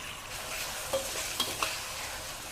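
Pickled bamboo shoots stir-fried in a pan with curry paste, a brief, fairly quiet steady sizzle with a few light spatula scrapes and clicks, no talking.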